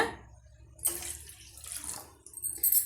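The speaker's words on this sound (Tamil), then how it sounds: "இப்போ இந்த டம்ளரால் ரெண்டு டம்ளர் அளவுக்கு நான் தண்ணி சேர்த்துக்கிறேன்" Water pours into a pot for tulsi tea in a couple of short splashing bursts, fairly quiet and close.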